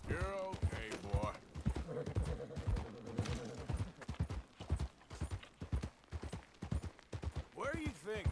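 Horse hooves clip-clop in Red Dead Redemption, a steady rhythm of close hoofbeats mixed with game sounds while people talk over much of it.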